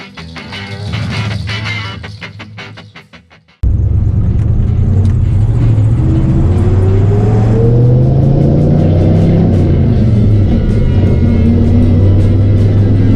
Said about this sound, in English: This old truck drives pretty good with that new motor in it.